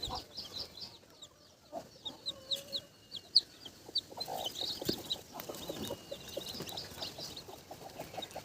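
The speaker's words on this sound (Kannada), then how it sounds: "ಇವೆಲ್ಲವೂ ಸಹ ನಾಟಿ ಕೋಳಿ ಮರಿಗಳು" Native country chicken chicks peep in high, quick chirps, many overlapping near and far on a farm, with soft clucks from adult hens underneath.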